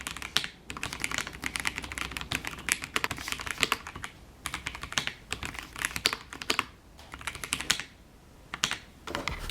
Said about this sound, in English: I will do a typing test for you guys.